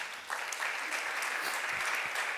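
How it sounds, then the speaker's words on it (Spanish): Audience applause following a lecture by a female doctor at a conference, a steady dense clapping that swells after a brief start and holds evenly throughout. "un fuerte aplauso para ella"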